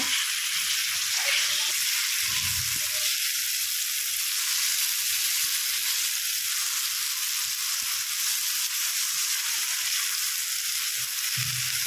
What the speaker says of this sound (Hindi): त्याला आता चांगला मसाला भाजून घ्यायचा